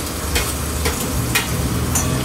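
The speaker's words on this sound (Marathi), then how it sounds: "परतून द्यायचं थोडस" Jackfruit vegetable is stir-fried in a pan with a constant close sizzle, while a spoon scrapes and stirs in roughly regular strokes about every half second.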